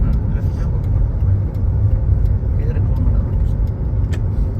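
A car moving through busy road traffic during a driving lesson, heard from inside. A steady, loud low engine and road rumble holds throughout, with faint higher noises above it.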